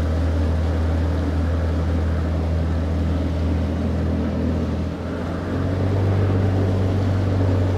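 Motorboat engine on the Khanpur Dam lake droning steadily and loudly throughout, a close, continuous hum with a brief dip in pitch near the middle before settling into a slightly different tone.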